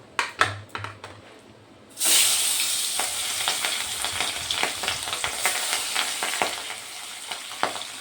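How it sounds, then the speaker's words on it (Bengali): Pabda fish drop into hot oil in a wok and burst into a loud, steady sizzle that keeps crackling and popping without pause. "কড়াইতে আমি তেল দিয়ে দিয়েছি, তেল গরম হয়ে গেছে। আমি এখন একটা একটা করে দিয়ে এগুলো ভেজে নেব।"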